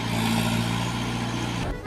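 A tractor engine chugs steadily out in a farm field, a loud close drone that holds evenly and cuts off near the end.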